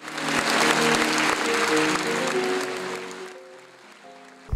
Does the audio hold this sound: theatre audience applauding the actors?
yes